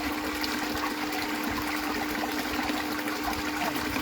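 Water runs steadily through a gold sluice while a bucket of material is cleaned up, a continuous rushing trickle that stays close and even, with a faint low hum beneath it and no voices.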